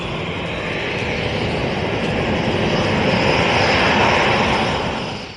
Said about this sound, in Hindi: भारतीय वायुसेना को स्वदेशी लड़ाकू विमान तेजस यानी कि लाइट कॉम्बैट एयरक्राफ्ट मिलेंगे